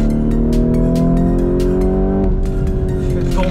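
A Lamborghini Urus races hard on a circuit, its engine roaring loud and close with rising and falling revs and a gear change partway through, while tires squeal faintly.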